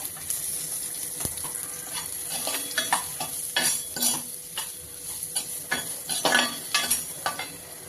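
Chopped bitter gourd sizzles and crackles in hot oil with popped mustard seeds, with scraping stirs and clinks of a utensil against the pan, fairly close and moderately quiet.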